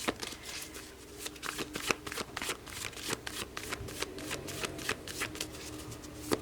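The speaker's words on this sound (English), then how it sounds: "let's pull more cards here to have a more complete picture." A deck of tarot cards is shuffled and handled up close, making a quick run of crisp riffling flutters and soft slaps in an uneven rhythm, with no voices.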